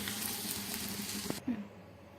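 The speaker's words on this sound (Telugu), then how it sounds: "ఇలా అంతా బాగా కలుపుకొని ఒక టూ మినిట్స్ హై ఫ్లేమ్లో పెట్టి వేయించుకోండి" Shredded cabbage frying on a high flame, a steady close sizzle with a single clack of a utensil before the hiss cuts off abruptly, leaving a quiet low hum.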